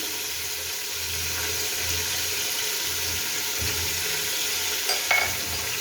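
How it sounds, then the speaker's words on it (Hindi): Beef frying with ginger garlic paste for a degi korma, a steady close sizzle with intermittent scraping and stirring strokes throughout, no talking. "इसको अच्छी तरह मिला लेंगे। और गोश्त का कलर चेंज होने तक उसको भून लेंगे।"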